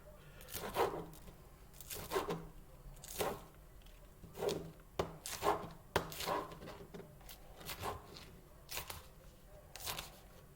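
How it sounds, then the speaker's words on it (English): A knife chopping onion on a board, about a dozen distinct thuds in an uneven rhythm, close but fairly quiet. "It's like a regular onion. You can cut it small, as big as you like it."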